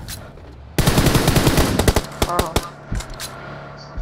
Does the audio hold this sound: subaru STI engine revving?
no